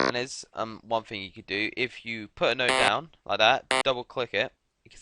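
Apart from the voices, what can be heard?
No everyday noises stand out.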